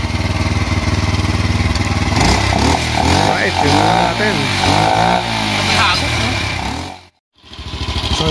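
A Honda Cub motorcycle engine, fitted with a power tuner, runs loud and close with a steady rough drone, then is blipped and revved through the middle before cutting out briefly near the end, while someone speaks over it.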